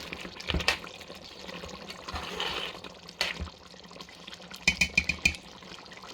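Mutton curry with garam masala being stirred in a pan, making wet, sloppy scraping and squelching sounds close up, in a few slow strokes and then a quick run of clinks near the end.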